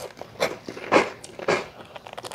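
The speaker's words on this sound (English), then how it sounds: "Crunch." Crisp crunching bites into bread served with Cajun chicken pasta, three distinct crackling bursts spaced about half a second apart, close and fairly loud with no talking.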